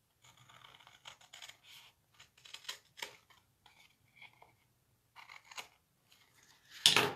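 Scissors trim a piece of paper card in a series of quiet, close snips and scratchy cuts with short pauses, ending with a louder rustle of handled paper; no one speaks.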